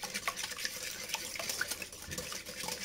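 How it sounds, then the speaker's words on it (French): Three eggs whisked in a salad bowl for a chorizo and Maroilles cake batter, a steady rapid scraping and clinking of the utensil against the bowl, continuous and close, with no talking. "j'ai mis mes 3 œufs. Je les mélange."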